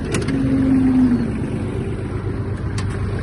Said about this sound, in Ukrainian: поки тракторець прогрівається